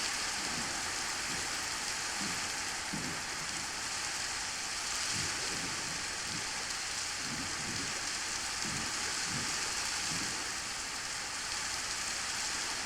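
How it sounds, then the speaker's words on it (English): Steady rain falling in Minecraft during a thunderstorm, a continuous close hiss of drops with faint low rumbles underneath and no voices. "Looks like we might get into a thunderstorm"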